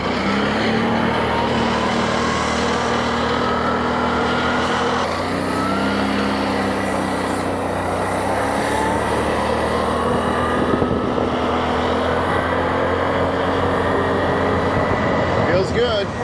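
A tracked vehicle, newly fitted with its tracks, drives off with a steady, loud engine drone that rises and falls through turns, with a scratchy clatter running underneath the whole way.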